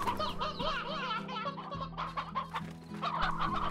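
Several chickens in the video game Slime Rancher cluck and squawk in quick, overlapping bursts, close and busy, with no other sounds around them.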